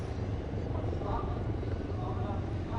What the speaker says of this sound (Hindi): और अब आप देखेंगे दो एडवांस लाइट हेलीकॉप्टर्स जिसके माध्यम से कमांडोज की मुख्य टुकड़ी यहां पहुंचेगी।